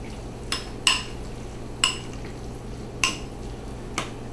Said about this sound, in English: you're going to add in a teaspoon of butter, some cinnamon, and you're going to mix that all together